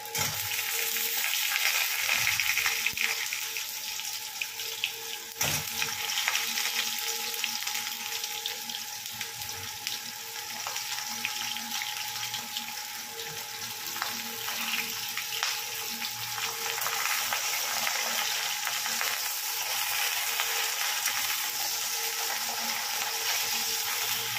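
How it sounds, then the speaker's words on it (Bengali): Eggplant (brinjal) pieces frying in a pan seasoned with nigella seeds: a dense, loud hissing sizzle runs steadily for the whole stretch with little change, close up and without any talking. "চলো এবার বেগুনগুলো দিয়ে দিই। অনেকটাই বেগুন আছে, ভাজতে বেশ টাইম লাগবে।"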